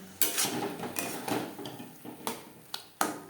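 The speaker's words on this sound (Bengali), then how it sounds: "যেহেতু আমি এখন আর শিলপাটায় বাটলাম না তাই আমি জাস্ট একটু নাড়াচাড়া করে নেবো" Cauliflower leaf paste with coconut, onion and green chilli being stirred in a pan: sharp scrapes and clinks from the utensil against the pan, several separate strokes at an uneven pace, close and fairly quiet.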